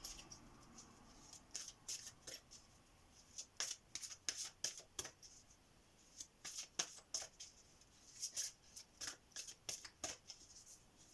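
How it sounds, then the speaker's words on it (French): A deck of tarot cards is shuffled by hand in repeated quick bursts of crisp riffling and flicking, close and fairly quiet, with short pauses between the runs and no talking. "Je vais le remuer et le couper avant"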